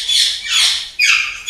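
Alexandrine parakeets at a large bird nursery give three loud, harsh squawks in quick succession, close to the microphone with no talking.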